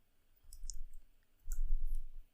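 Computer keyboard typing, two short soft clusters of key clicks with quiet gaps between, close and faint.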